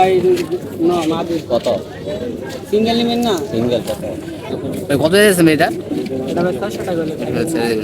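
Giribaz pigeons coo in bursts at the busy Tongi pigeon market, close and clear, while people talk over and around the calls.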